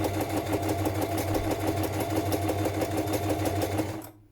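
A sewing machine runs steadily while stitching a messy-stitch journal cover, its rapid even needle rhythm loud and close for about four seconds before it stops abruptly at the end.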